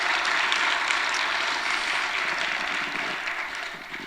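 A church congregation applauds during a service, a dense, steady wash of clapping that holds loud for about four seconds and then eases slightly toward the end.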